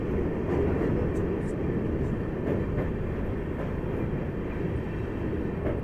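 Humsafar Express train crossing the Nasipur rail bridge at night, a steady loud low rumble with rattling heard from on board, continuous throughout.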